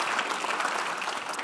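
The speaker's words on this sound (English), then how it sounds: "So please, let's give them a round of applause." Audience applause at the 2018 Litecoin Summit honoring the Litecoin Foundation and community: a steady, dense wash of clapping from a crowd, moderately distant and sustained throughout without any talk.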